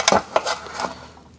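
A screwdriver prying off the valve cover of a 1957 Chevy Bel Air engine, a few sharp metallic clinks and scrapes close by, spaced irregularly and then trailing off, no talking.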